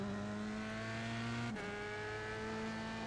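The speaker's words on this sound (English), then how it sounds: "we're flat out now, 160, 170 mile an hour in the Dallara" Dallara race car engine at full throttle, around 160 to 170 mph on a racing circuit: a loud, steady, close high-pitched drone with a brief pitch dip midway as it holds flat out.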